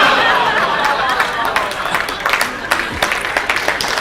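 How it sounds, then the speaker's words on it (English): A conference audience reacts to a pun with groans and scattered applause, a burst of clapping and murmuring that tapers into lighter, uneven claps and chatter. "Some groan, some applause."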